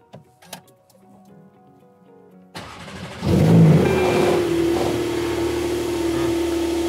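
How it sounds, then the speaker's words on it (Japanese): Car engine at a Rolls-style dealership showroom (Lopeleo Setagaya stock car, luxury model with PDCC) cranks and catches, then settles into a loud steady idle with a slight rev, following a few quiet clicks inside the cabin. "じゃあ、 はい、エンジン かけ、エンジンいきますね"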